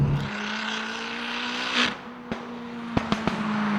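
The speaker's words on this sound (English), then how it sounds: "every time I put my foot down, it sounds like there's a Dyson trapped in the bonnet. That's the screamer pipe." A side-exhaust Ford Fiesta with a screamer pipe and 413 bhp accelerates hard, its engine note rising in a whining, vacuum-like drone, with a few sharp pops and crackles near the end.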